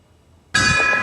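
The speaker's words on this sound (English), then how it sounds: "The auspicious sound of bells and long queues of devotees" After a quiet start, a bell at the BAPS Hindu temple in Abu Dhabi strikes once with a sudden bright metallic ring that sustains loudly to the end.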